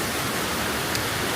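Waterfalls in the Abruzzo countryside beneath the Maiella mountain range, giving a steady, dense rush of falling water that stays even throughout with no voices.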